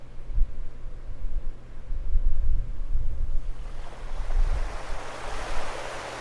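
Ocean waves roll and wash in steadily at sunset, with a continuous surging hiss that builds toward the end, alongside low wind rumble.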